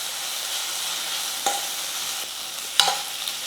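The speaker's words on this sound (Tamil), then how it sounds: "இப்போ இஞ்சி பூண்டு பேஸ்ட்டு பச்சை வாசனை போகிற அளவுக்கு நல்லா வதக்கிக்கலாம்" Onion with ginger garlic paste sautéing in a pan at home, a steady soft sizzle with a couple of short scraping stirs of a spoon, close and alone with no talk.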